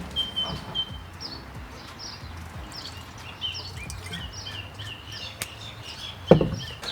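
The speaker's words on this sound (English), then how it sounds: "The birds are chirping." Birds chirp and tweet outdoors on a sunny day in short, repeated bright calls at a moderate distance, over a soft background hum. A single sharp knock stands out near the end.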